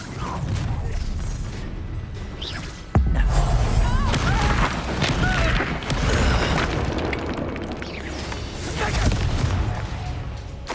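Spell explosions from Bombarda and Confringo in Hogwarts Legacy boom and burst continuously through a dense, noisy battle mix, with a sharp blast near the start and shouted voices mixed in.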